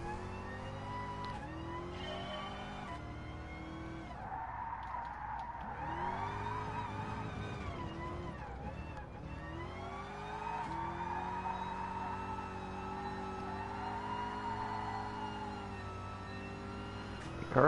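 Car engine revving and tire squeal from GT Sport drift practice, heard from the interior camera: a continuous loud engine drone with rising and falling harmonics as revs shift, sustained throughout with no talk.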